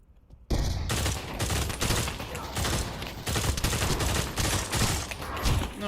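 M16 rifle fire in the VR shooter Pavlov, a loud, continuous run of rapid shots starting abruptly after a brief quiet moment and carrying through to the end, with a voice faintly underneath.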